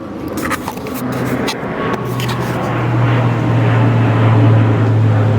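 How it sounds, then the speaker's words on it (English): A low-flying airplane passing very close overhead, its engine a steady low drone that swells and grows louder across the clip, with faint background sounds early on. "That plane is, like, super close."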